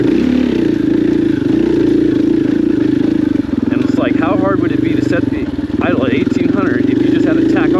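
A dirt bike engine idles on an off-road trail, a loud, steady low putter that dips briefly, with someone talking over it.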